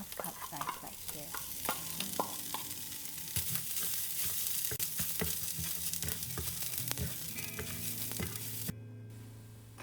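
Washed rice being stirred and sautéed with garlic and ginger in a pan, a steady close sizzle with frequent scraping and stirring clatters throughout, no talking.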